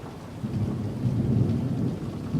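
Heavy monsoon thunderstorm rain and gusting wind roar in a low, continuous rumble, loud and close, with no voices.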